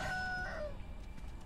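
A rooster in the video game Sekiro crows loudly in one drawn-out call that bends downward at the end, followed by quieter background ambience.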